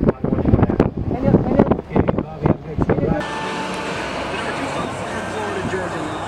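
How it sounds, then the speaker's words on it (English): Strong wind buffeting the microphone while chasing a tornado storm, a steady dense roar taking over after several seconds of loud talking by people outdoors. "Wind."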